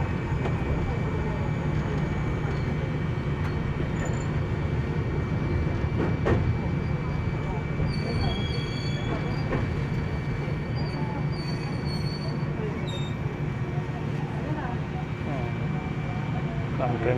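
A crowded commuter train in Japan rumbles steadily from inside a carriage on the line toward Kamakura, with continuous low wheel and track noise and a few faint high tones or squeals partway through.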